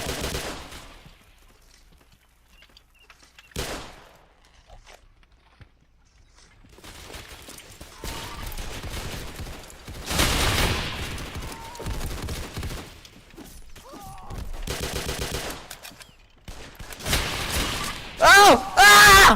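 Gunfire bursts in a Roblox game, loud and irregular with rapid clustered shots, heard amid shouting voices and game noise.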